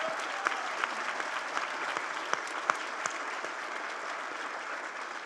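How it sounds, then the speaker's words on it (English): A brunch audience applauds the Regional Chancellor and her team, a steady, moderately distant round of clapping with a few sharper individual claps standing out. "let's give them all a huge round of applause"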